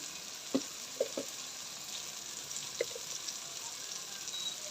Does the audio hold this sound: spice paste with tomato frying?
yes